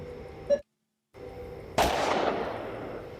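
A gunshot cracks once loudly and then decays. It is fired by Gary in a found-footage horror movie set in the high desert. Just before it there is a brief sharp pop and a dropout to silence.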